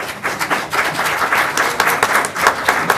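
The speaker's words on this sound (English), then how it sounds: "hold the applause now" Audience applause at a county school board meeting, a dense wash of many hands clapping steadily for about three seconds with no talk over it.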